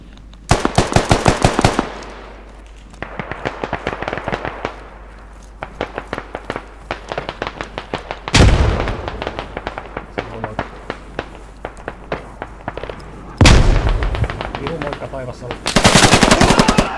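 Rapid bursts of automatic gunfire crackle in a video game skirmish, with loud rattling volleys separated by quieter stretches and sharp single blasts.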